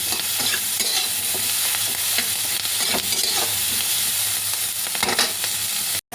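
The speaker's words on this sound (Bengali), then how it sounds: "পেঁয়াজ ক্যাপসিকাম দুটোই দিয়ে দেবো। জাস্ট একটু সটে করে নেবো।" Onion and capsicum sautéing for paneer chilli, a loud continuous sizzle with repeated quick scrapes and stirs of a utensil against the pan, close up, ending in a sudden brief dropout.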